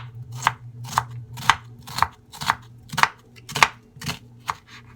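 A knife slicing a purple onion thinly on a cutting board, about ten crisp, close chopping taps in an even rhythm roughly twice a second, with no talking.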